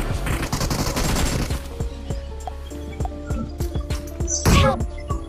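DP gunfire in the video game BGMI, a quick burst of close, rapid shots at first, then scattered single reports and a louder blast near the end, with a voice talking over it.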